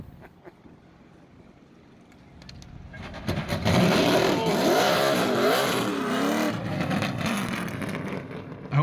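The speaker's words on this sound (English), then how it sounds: "They're gonna give him a little jump start. You gotta pop the clutch." A car being jump-started by popping the clutch: a quiet stretch, then the engine catches and roars up loudly, holding a strong, wavering revving drone to the end, with no talk over it.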